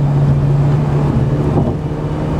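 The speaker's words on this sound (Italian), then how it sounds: "Caro Luigi, facciamo sentire il motore?" The engine of a top-trim Mercedes A-Class runs, heard from inside the car as a steady, loud low hum with a constant drone and some wind-like rush, with no talk.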